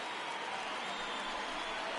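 A packed baseball stadium crowd of over 37,000 in a baseball video game roars steadily in the ninth inning, a dense, continuous wash of cheering with no clear breaks.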